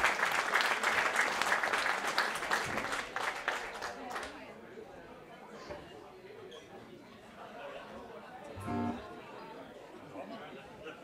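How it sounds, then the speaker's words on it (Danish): An audience claps loudly for a few seconds, then the applause fades into murmuring chatter and scattered noise. "Klap dem op."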